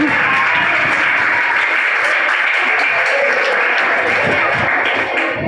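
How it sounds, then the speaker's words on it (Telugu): An audience at a devotional class claps together in steady, dense applause, loud and close. "క్లాప్స్ కొట్టండి"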